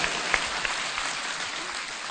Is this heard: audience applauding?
yes